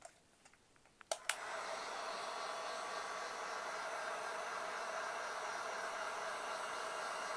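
A heat gun on its high setting blows a steady, loud hiss of hot air while shrinking heat shrink tubing, starting after a few faint clicks and continuing unbroken.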